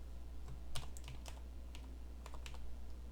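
Steady typing of C code on a computer keyboard, a string of light, quick key clicks in irregular clusters over a faint constant hum, no voices.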